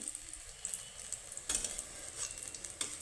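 Mango pieces fry in hot oil for a milk-and-ripe-mango dessert, a steady soft sizzle with occasional stirring scrapes and brief louder bursts, close up and without any voices.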